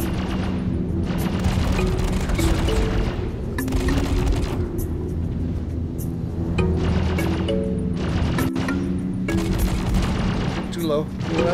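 Ship guns in Star Citizen pound at a turret in repeated bursts of heavy booming fire over a constant low engine rumble, with no talk during the volleys.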